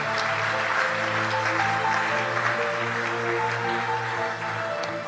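A church congregation claps and acclaims together in a continuous burst of applause, layered over a sustained musical accompaniment.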